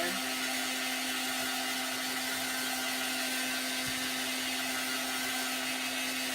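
A blow dryer runs continuously with a steady, even whirring hum and airy hiss, unchanging from start to finish.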